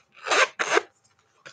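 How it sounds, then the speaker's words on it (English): Two quick rasping zipper pulls close a Coach saffiano leather wallet up close, each lasting a fraction of a second, followed by a faint tick. "It zips up."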